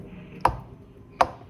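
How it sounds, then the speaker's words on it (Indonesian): Two sharp knife strikes against a cutting board while cutting pudding into small cubes, spaced under a second apart, with quiet background between them. "Lalu tinggal dipotong dadu kecil-kecil seperti ini."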